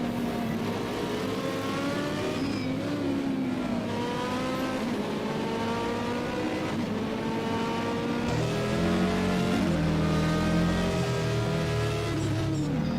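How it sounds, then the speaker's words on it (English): Opel Kadett hill climb race car with a high-revving four-cylinder engine, screaming loudly through repeated upshifts and downshifts through a chicane, continuous and close. "Makes a pretty fantastic sound as well, the Opel Kadett."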